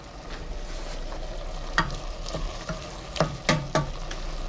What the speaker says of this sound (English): There's a ton of moisture and we want it to boil out, so it won't burn